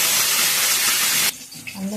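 Cumin, green chillies and curry leaves hit hot oil with a loud, bright burst of hissing sizzle that cuts off abruptly after about a second, followed by quieter sounds and a brief voice.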